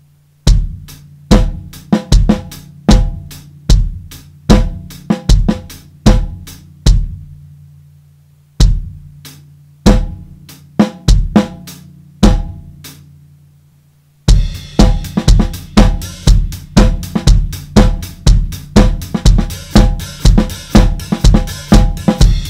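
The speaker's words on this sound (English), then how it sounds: "you can start to add in the two snare drums in the middle, which sound like this." A drum kit plays a steady groove of evenly spaced, punchy hits. There is a short pause partway through, then a fuller section with the two middle snare drums added and a brighter, busier texture, all close and loud.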